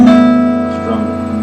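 Open strings of an in-tune guitar ringing together as one sustained chord, strummed once and left to decay, close and clear for about a second and a half.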